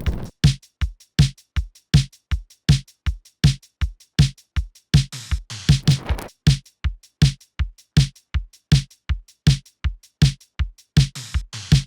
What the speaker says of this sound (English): normally people tend to go with simple hi-hat patterns that sound like this